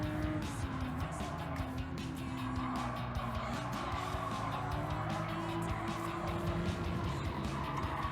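An engine-swapped Porsche racing in Gran Turismo 7, a steady loud engine drone with tire squeal and tonal whine held throughout, no talk.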